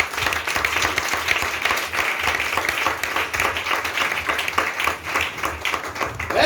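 A church congregation applauding together, loud dense clapping with a rough rhythmic pulse that carries through the whole stretch.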